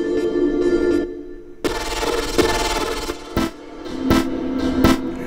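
Synth notes processed with a long reverb effect, sustained tones that trail into echoing tails, punctuated by sharp percussive hits and washes of decaying ambience.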